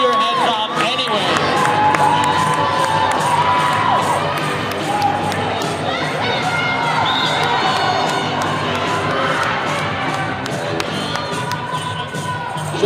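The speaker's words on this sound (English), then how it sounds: "make some noise" Roller derby crowd in a venue cheering and yelling loudly throughout, a dense roar of shouts and whoops with scattered claps, voices mixed in.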